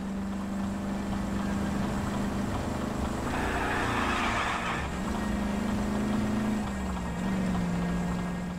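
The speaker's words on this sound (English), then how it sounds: "You can just hear the car is struggling at this point." A struggling car engine in the video game LA Noire drones continuously and loudly, its pitch sagging and rising as the revs labour, with a rougher surge partway through and no talk.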